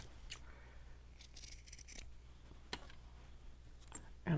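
Scissors snip through craft material for a Noah's Ark journal, a few quiet crisp cuts spread over several seconds against a soft steady background hum.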